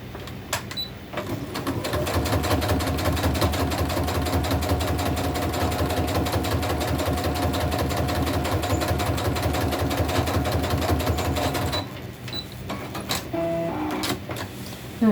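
Sewing machine stitching a seam on a crazy crumb quilt block, a steady loud motor whir with a fast needle rhythm for about ten seconds, then stopping with a few light clicks.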